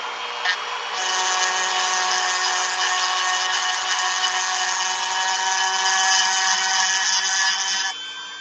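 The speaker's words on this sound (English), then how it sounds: "Dremel back out." A Dremel rotary tool spins up and runs at a steady high-pitched whine for several seconds, close and loud, then winds down, used while customizing action figures.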